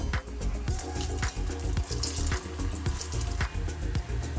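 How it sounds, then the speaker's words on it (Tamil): Soya chunk kofta balls deep frying in hot oil give a steady, busy sizzle with crackling bubbles and small pops that repeat throughout. The sound is fairly quiet and close, with no talking. "இந்த மாதிரி நம்ம எல்லாத்தையும் பொரிச்சு எடுத்துக்கலாம்"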